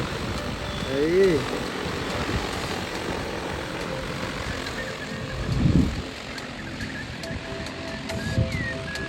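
Korean-made agricultural drone spraying pesticide over a farm field, giving a steady broadband whirring roar with a wind-like wash and a few brief louder swells, faint voices in the background.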